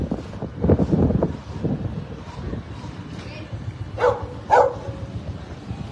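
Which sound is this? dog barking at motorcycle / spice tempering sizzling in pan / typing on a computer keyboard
dog barking at motorcycle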